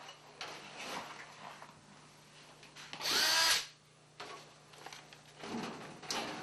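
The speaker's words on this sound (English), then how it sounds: "Now I'll secure the piece in place by using the screw gun and putting a few screws right through the S drive." A screw gun drives screws through the S drive while an air cleaner is being installed: a loud, close burst of about half a second, with softer handling clicks and taps on either side.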